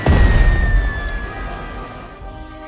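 A bomber squadron's high-explosive payload from a strategy war game lands in one loud, close blast with a sharp onset, then a long rumbling decay that fades over a couple of seconds, no voices.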